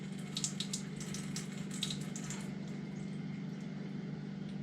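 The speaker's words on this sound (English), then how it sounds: "I like cleaning them underwater, just like this" A squirrel being cleaned underwater, with steady running and splashing water filling the whole stretch at close range, a few brighter splashes early on, and no talk.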